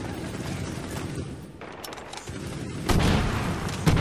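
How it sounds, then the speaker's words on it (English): A grenade explodes in the Medal of Honor: Warfighter campaign, a loud broadband blast erupting partway through amid ongoing distant battlefield gunfire and rumble. "Frag out!"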